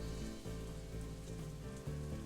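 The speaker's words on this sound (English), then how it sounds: "It's raining buckets out there" Heavy rain from a visual novel, a steady dense hiss of downpour on surfaces, continuous and fairly loud throughout with soft background music underneath.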